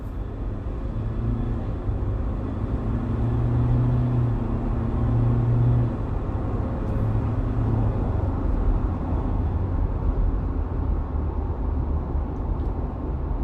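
Inside the cab of a 2024 Ford Ranger Wildtrak with the 2.0 biturbo diesel, the engine hums and rises steadily while pulling away and accelerating, with a low droning tone shifting through the gears and no speech.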